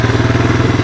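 A 1985 Honda ATC 250SX three-wheeler's engine runs with a loud, close, rapid pulsing putter.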